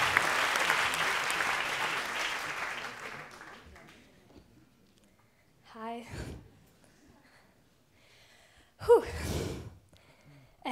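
Audience applause at a poetry slam: loud clapping fills the first few seconds and fades out by about four seconds, followed by quiet stage sounds, a gasp-like breath and brief rustling noises.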